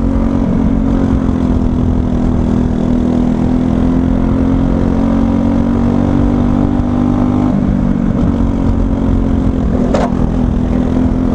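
A racing kart engine runs hard around a raceway circuit, a loud, steady buzzing drone held close throughout with small shifts in pitch and one brief sharp spike near the end.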